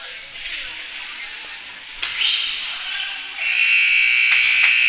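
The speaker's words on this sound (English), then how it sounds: "the buzzer goes, and we're going to get our line set" A loud electronic buzzer at a girls' hockey game drones steadily over a noisy arena crowd, growing stronger toward the end.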